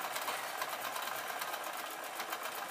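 A sewing machine stitches microfiber tea towels in a fast, even whirr of needle strokes, close and steady throughout with no talking.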